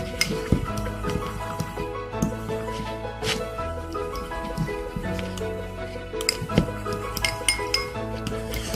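White glue and water stirred together for slime, with a utensil clinking and scraping against a bowl in an uneven, close rhythm.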